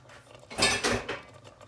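Rinsed kidney beans tipped into a pot of chilli beef, a short soft clatter and wet tumble of beans against the pot for about half a second, close and moderately loud, with light utensil clinks around it and no talking.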